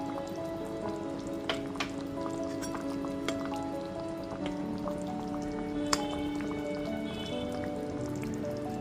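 Rohu fish curry with potato and pointed gourd simmering in a covered pan on low flame, with fried fish pieces and slit green chillies added: a steady soft bubbling hiss with scattered light pops and drips, fairly faint, no talk.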